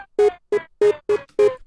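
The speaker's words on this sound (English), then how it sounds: "So if we listen to the jet engine here" Jet engine noise in Ableton gated open by a synth pattern, cutting in as five short, loud bursts with a regular rhythm and silent gaps between them, with no talk.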